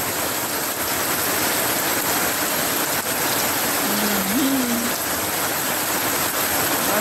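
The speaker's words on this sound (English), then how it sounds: "a lot of rain pouring down" Heavy rain pours down steadily outdoors among breadfruit and banana trees, a dense, even hiss throughout with a faint brief tonal sound in the middle.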